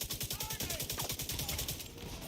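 Rapid automatic gunfire rattles in The Division 2, a fast even stream of shots at moderate level over game ambience, with faint voice chatter beneath.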